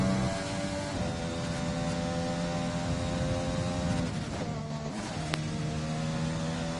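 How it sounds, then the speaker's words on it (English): Engine of a Honda race car in a racing video game, a steady multi-toned drone held throughout with a brief sharp blip near the end, under broadcast commentary ambience. "What a difference in engine sound flicking to the Honda."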